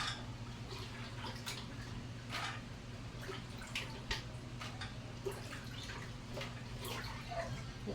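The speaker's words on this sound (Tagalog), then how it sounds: "naghugas tayo ng mani guys" Peanuts are washed in water, with faint close splashing, dripping and trickling against a steady low background hum, the sloshing irregular and soft throughout.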